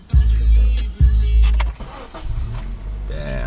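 A Honda Civic with its muffler deleted cranks and fires up in two sharp bursts, then settles into a loud, raspy idle close by; a faint voice is heard near the end.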